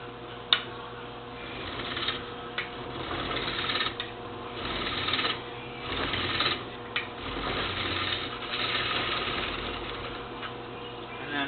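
A wood lathe turns steadily as a gouge flattens the foot of a bowl, giving a continuous close scraping whir with a few sharp ticks and slight swells in loudness, with no talking.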